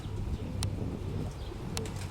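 Pigeons at a racing loft, a soft low cooing running steadily under faint background noise, with two brief sharp higher sounds standing out.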